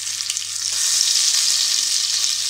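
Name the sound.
ground masala paste frying in hot oil with curry leaves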